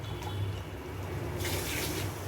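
Water swishes and sloshes inside a mixer jar being rinsed, a brief rush of splashing rising over a steady background hum.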